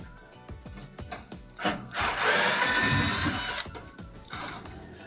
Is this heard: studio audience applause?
no